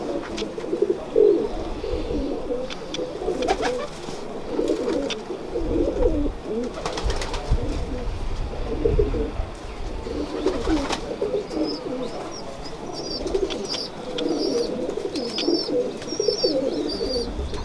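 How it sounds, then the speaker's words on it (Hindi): An old breed of fancy pigeons coo repeatedly at close range in soft, throaty bursts, with small chirps higher up and faint voices and movement around them. "कौन से कबूतरों का शौक करवा रहे हैं? ये कबूतर ना इमामदीन और चोटीदार आगा ताहिर रज़ा साहब वाले माल्टन वाले, ये उनकी ब्रीड"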